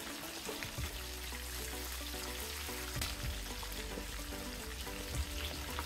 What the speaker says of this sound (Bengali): আবার আমি অল্প অল্প একটু ভেজে নেব, 1 মিনিটের মতো ভেজে নেব।